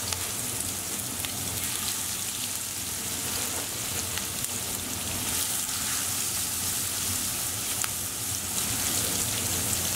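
Chapli kebab patties sizzle in a large frying pan with one to two tablespoons of oil over medium-high heat, a steady dense crackling hiss that runs unbroken and close throughout.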